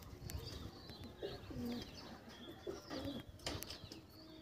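Fulchira Madras pigeons coo in a loft, with several soft, throaty rolling coos repeating over light chirps and faint background noise.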